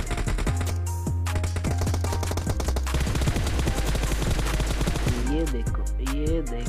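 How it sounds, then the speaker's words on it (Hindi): Rapid bursts of automatic gunfire and single shots ring out during a PUBG Mobile firefight, dense and loud over a low rumbling game background, with sharp repeated cracks throughout. "गन फाइट चालू।"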